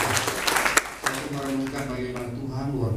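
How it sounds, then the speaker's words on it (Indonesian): Congregation clapping in a church service, a short spell of mixed hand claps and crowd noise with voices talking over it before it settles into a murmur. "Tepuk tangan untuk Tuhan Yesus"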